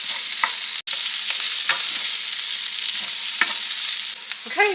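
Leftover meatloaf and potatoes sizzle and crackle steadily in a hot pan, a continuous bright hiss with occasional scraping stirs and a brief clatter near the end.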